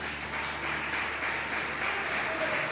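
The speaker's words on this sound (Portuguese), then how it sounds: "Será que você pode aplaudir o nome de Jesus?" Church congregation applauding the name of Jesus during a pastor's sermon, a steady, distant wash of clapping under a hum, without breaks.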